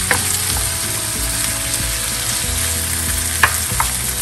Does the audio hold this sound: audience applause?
no